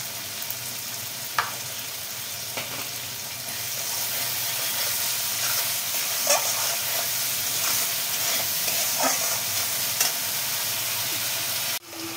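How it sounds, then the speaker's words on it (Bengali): Spices fry in a pan with a continuous soft sizzle and occasional stirring clicks and scrapes, ending with a sharp knock; no voices are heard. "মশলাটা ভাজা হচ্ছে"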